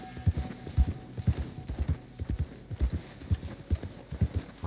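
Rhythmic clip-clop of horse hooves riding through snow in Red Dead Redemption 2, a steady close gait with muffled, thudding footfalls and faint background ambience.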